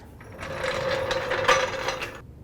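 Ratchet tightening the engine mount bracket bolts on a 2007-12 Nissan Sentra: a steady run of close, rapid metallic clicks lasting about two seconds, with no talking.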